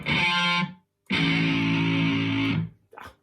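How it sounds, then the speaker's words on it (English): Heavily distorted sampled eight-string electric guitar chords ring out in two sustained bursts separated by a short gap, followed by a brief final stab. "so the distortion guitar here sounds a bit crap"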